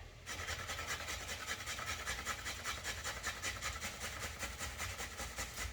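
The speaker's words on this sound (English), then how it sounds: "right now I'm grating courgette" Courgette grated by hand in a home kitchen for bolognese, giving steady, rhythmic rasping strokes close up, repeated evenly throughout with no talk.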